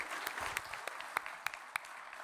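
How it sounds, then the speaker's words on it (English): Graduates at a convocation ceremony receive a round of applause from the audience, a steady wash of clapping with a few sharper claps standing out, moderately distant and fairly quiet. "A big round of applause for all of them"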